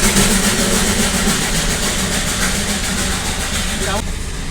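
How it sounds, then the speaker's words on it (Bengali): Darjeeling toy train at Ghum railway station, the highest station on the line, with a steady engine rumble and mechanical clatter filling the whole stretch, close and loud, ending with a brief shift near the end. "তাহলে চলো এবার দেখে নেওয়া যাক এখানকার টয় ট্রেন"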